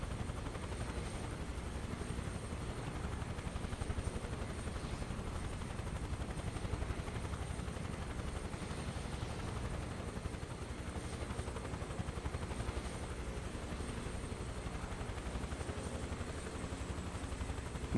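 Steady helicopter rotor and engine drone from Microsoft Flight Simulator 2024, played on PS5 Pro, holding at an even level throughout with no voices.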